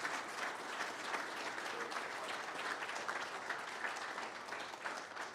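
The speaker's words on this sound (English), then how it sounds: "Let's give Coach a great big round of applause." Audience applause for a coach being honored at an Anderson County board meeting, steady dense clapping from a roomful of people sustained evenly throughout, with no talk over it.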